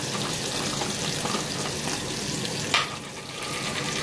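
Cumin seeds sizzle steadily in hot oil with a constant frying hiss and a brief clink partway through, heard alone with no talking.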